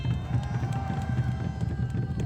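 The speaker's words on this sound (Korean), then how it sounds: "큰 박수 부탁드립니다" Dense, steady applause from a crowd at an outdoor political rally in Yeouido, Seoul, a continuous rapid patter of many hands with faint crowd murmur beneath.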